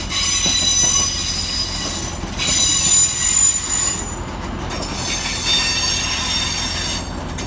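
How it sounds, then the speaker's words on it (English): A British Rail Class 150 diesel unit pulls into Manchester Piccadilly station, wheels squealing loudly on the rails with a steady rolling rumble and high metallic screeches throughout. "we see the arrival of 150-102, terminating with a northern service off Rosehill Marple"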